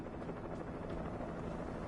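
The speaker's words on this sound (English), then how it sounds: "That's a helicopter." A helicopter in Alan Wake Remastered gives a faint, steady low rotor rumble mixed with airy noise, continuous and distant-sounding throughout.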